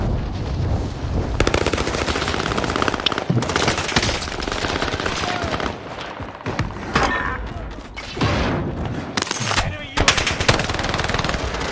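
Rapid automatic gunfire from a shooter video game rattles in dense, loud bursts almost without pause, with sporadic single shots and a voice speaking over the action.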